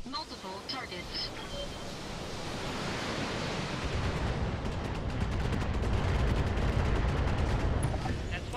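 Mech weapons and missiles firing in the Battletech video game, heard as a dense rushing roar of launches and blasts that swells louder partway through, with a burst of rapid crackling impacts near the end.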